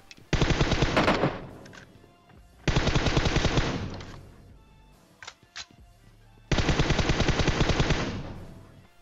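Automatic weapons fire in the battle royale shooter PUBG: three long sustained bursts of rapid gunshots separated by pauses, with a few scattered single shots between them, loud and close.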